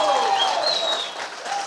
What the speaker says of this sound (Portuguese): Dá um aplauso decente aí para Jesus.